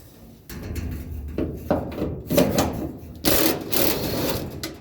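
A ratchet fitted with a 14 mm socket turns screws on a car, making bursts of close, rapid clicking separated by brief pauses. There is no speech.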